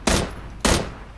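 Two sharp, loud gunshots in the video game PUBG ring out about half a second apart, each with a short decaying tail and no voices over them.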